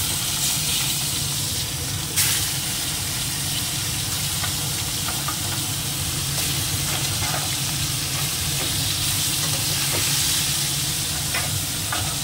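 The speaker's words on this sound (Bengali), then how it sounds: "মাছটাকে একটু ভেজেই নিই।" Scaleless fish fries in hot oil in a pan, a dense, continuous close sizzle with scattered crackles and spits throughout.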